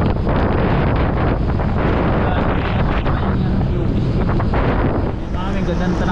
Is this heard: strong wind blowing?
yes